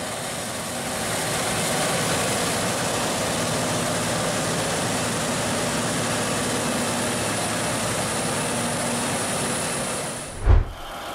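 A cotton harvesting machine with a round module builder runs in the field, producing a steady, loud low engine drone with broad mechanical roar that holds constant before a brief thump near the end.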